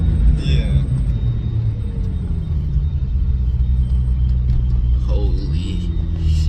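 A 1000-wheel-horsepower McLaren's engine rumbles loud and close from inside the cabin, a deep steady drone that holds through the clip and swells slightly near the end as it accelerates, with people talking over it.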